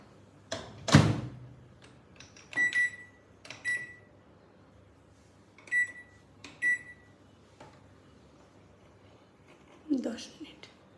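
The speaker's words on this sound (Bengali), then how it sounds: "এটা এখন মাইক্রোওয়েভে ঢুকিয়ে দেওয়া হলো, এবার এটাকে মাইক্রোওয়েভ করা হবে।" A microwave oven cooking steamed hilsa fish (ilish bhapa) gives a thud of the door, then a series of sharp electronic beeps over a faint low hum, with soft speech nearby.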